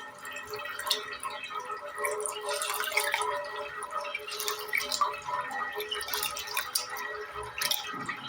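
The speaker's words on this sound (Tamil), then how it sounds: "இந்த ரெண்டையும் சேர்த்து நல்லா கழுவி எடுத்துக்கலாம்" Rice and lentils being washed in water, with close, irregular splashes, drips and the swish of grains stirred by hand, moderately loud with no talking.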